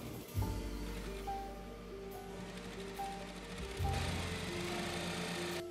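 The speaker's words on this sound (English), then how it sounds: "top stitch around them to secure" A sewing machine top-stitching the straps of a Hanfu dress, a quiet continuous mechanical hum with a soft restart near the end, heard close and alone.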